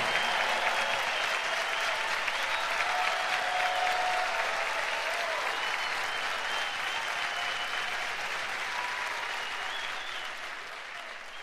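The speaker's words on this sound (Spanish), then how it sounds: "Un aplauso para Rocío, por favor." Sustained applause from a large audience at a live worship concert fills the whole stretch as a dense, steady roar of clapping that thins slightly near the end.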